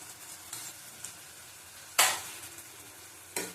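Lote fish stir-fried in a pan with turmeric and Kashmiri chili powder gives a quiet, steady sizzle, with a couple of sharper scraping stirs cutting through near the end. No one talks.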